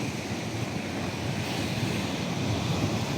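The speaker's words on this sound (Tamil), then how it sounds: "இந்த அலை தண்ணி வந்து இது கலவரம் பாருங்க" Sea waves wash continuously onto the Mullaitivu shoreline in a loud, broadband rushing roar with wind noise on the microphone and no voices.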